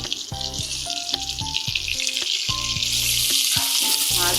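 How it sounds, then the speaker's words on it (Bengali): Pieces of katla fish frying in hot oil for a Manipuri-style fish curry, giving a loud, continuous, close hiss and crackle throughout, with a melodic musical backing running beneath the sizzle. "মাছ ভাজা হয়ে গেছে, মাছগুলি উল্টে দেব।"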